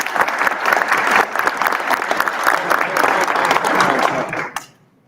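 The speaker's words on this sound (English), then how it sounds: "When I say Mr. McGee, y'all clap it up." Loud crowd clapping in response to a call from a stage, a dense, sustained wash of many hands that holds steady for several seconds, then cuts off abruptly near the end into quiet.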